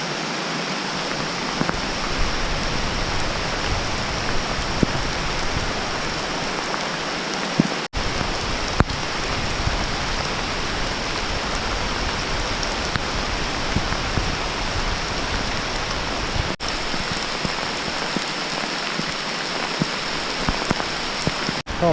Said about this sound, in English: On a road in the rain.